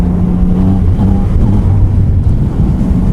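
A 2017 Yamaha MT-09 (FZ-09) motorcycle in A riding mode, its engine droning steadily under heavy wind rush, with uneven pitch lines as the snatchy throttle opens and closes.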